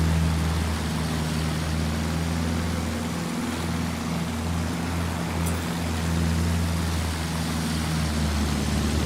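A Battlefield 1 propeller plane engine drones steadily and loudly, a low humming roar with a buzzing tone that holds throughout, with no talk.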